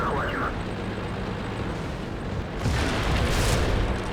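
Artillery shells landing around a T-34 tank in World of Tanks, a low rumbling bed that swells into a louder, harsher burst of impacts in the second half, heavy and close.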